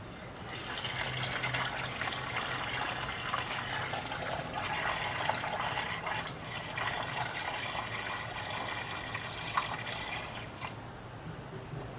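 Liquid pours steadily through a funnel into the gas tank of a rotten old 1956 chop-top oval-window VW Beetle, a continuous close trickling rush with a faint speaking voice under it.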